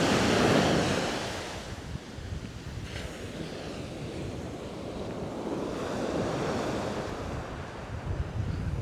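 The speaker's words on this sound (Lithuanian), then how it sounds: "Bangos tai įspūdingos irgi." Ocean waves breaking on a shore, a broad roar that swells and recedes, with wind buffeting the microphone and no voices.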